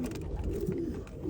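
A baby pigeon coos softly and steadily, close by, over a constant low rumbling background.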